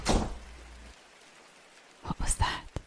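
Rain falls outside a window as soft, hissing patter that swells briefly, drops away to near quiet, then returns in uneven bursts.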